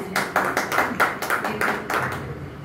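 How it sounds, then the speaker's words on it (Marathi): Clapping after a devotional song at a Marathi devotional music concert: roughly eight distinct, evenly spaced claps in a steady rhythm, close and moderately loud, then stopping abruptly. "जोरदार टाळ्या झाल्याच पाहिजे"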